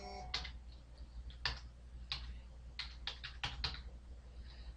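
Keys clack on a computer keyboard with the Tab key pressed, a quick run of light, irregular taps close by over a quiet low hum.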